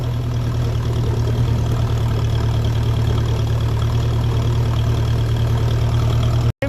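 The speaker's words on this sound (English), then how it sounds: "The engine's making all the right sounds." A 1957 Ferguson 35 tractor running on TVO chugs at a steady idle-like rumble, close and continuous with a low even beat, cutting off abruptly at the very end.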